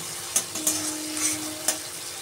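Masala for mutton curry sizzles in a pan over a raised flame, with continuous frying noise and several sharp scraping stirs spaced through it.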